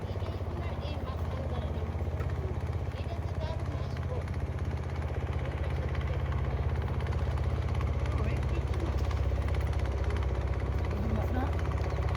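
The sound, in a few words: engine of a motor launch boat on river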